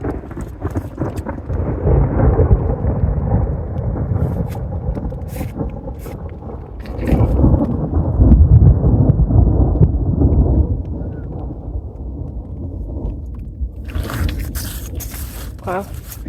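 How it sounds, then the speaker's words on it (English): Thunder rolls during a storm on a hiking trail, with long, deep rumbles that swell and fade over several seconds, heard from a distance, with light rustling nearby. "as you just heard, the thunder is still here"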